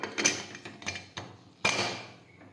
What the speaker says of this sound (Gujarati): હવે આપણે કુકરનું ઢક્કણ છે તે બંધ કરી દઈશું।